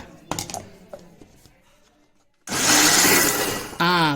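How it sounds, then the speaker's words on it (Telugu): A mixer grinder whirs loudly as masala ground with water turns to smooth paste, starting abruptly after a stretch of quiet kitchen clatter and holding a steady roar, with a higher whining tone near the end. "నీళ్ళు వేసుకున్న తర్వాత మిక్సీ పట్టుకుందాం మెత్తగా."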